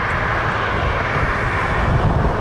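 An Avianca airliner taxis and lines up for the runway at Toronto Pearson airport. Its jet engines give a steady, broad roar that is loud and continuous throughout, with no voices.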